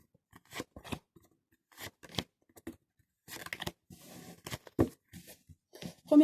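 Tarot cards are spread and drawn on a table with small stones, producing scattered soft slaps, rustles and flicks of cards, irregular and close, with quiet gaps between them.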